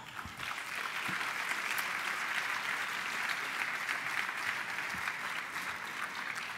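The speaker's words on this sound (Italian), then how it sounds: "Fatevi un applauso." Steady, full applause from an audience at the thirteenth national assembly of Anci Giovani, a crowd of young Italian municipal officials, continuing evenly throughout without pause.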